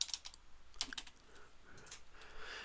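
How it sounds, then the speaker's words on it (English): Someone types on a computer keyboard while entering data into a spreadsheet, a quick, uneven run of light, close key clicks with brief pauses, faint against a quiet room. "It'd be good if I typed that correctly."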